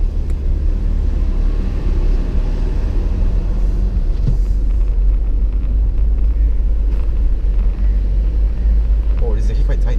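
A Renault Captur drives on after a gear change, its engine a low, steady rumble carrying through the whole clip with a brief shift in tone partway. Faint voices are heard in the background.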